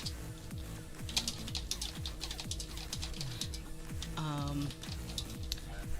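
Someone types on a computer keyboard while brainstorming a comic story, with quick soft key clicks in uneven bursts running under a background of talk and other noises.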